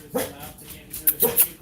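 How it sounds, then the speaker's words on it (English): Dogs bark in loud, sharp bursts, one early and a quick cluster of three near the end, close by with a brief whimper between. "Sorry for the loud barking."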